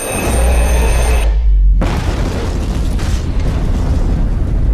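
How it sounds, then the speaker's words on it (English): Fireworks boom in a rhythm-game-style video game, a loud deep explosion breaking over a bright chiming tone and then rolling on as a sustained, heavy rumble. "Ah, fireworks. Always a good way to start a festival."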